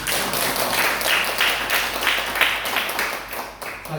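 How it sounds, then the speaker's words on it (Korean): A church congregation at a Sunday worship service applauds a missionary, a loud, close, dense patter of many hands clapping continuously for several seconds. "박수 한번 드리겠습니다"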